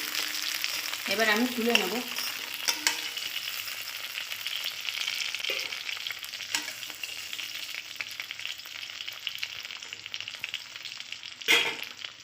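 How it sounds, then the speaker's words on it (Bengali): Kuche fish (eel) rubbed with salt and turmeric fry in hot oil, giving off a steady, close sizzle with occasional utensil clatter and a brief spoken remark near the start. "নুন হলুদ মাখানো কুচে মাছগুলো দিয়ে দেব, ভেজে নেব"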